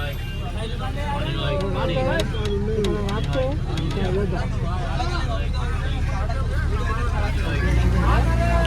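A crowded UPSRTC bus on the Ayodhya to Varanasi route pulls out onto the road, its low engine rumble running steadily under constant nearby chatter from passengers.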